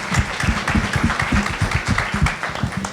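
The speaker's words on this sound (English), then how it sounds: "Please join me in a round of applause." Audience applause at the close of a panel discussion on employee engagement in New York City, a steady dense wash of clapping lasting throughout, fairly loud and without speech.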